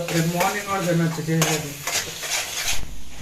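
Eggs and onions fry and are stirred in a pan packed full of eggs, giving a steady loud sizzle with scraping utensil strokes, while voices talk over the cooking.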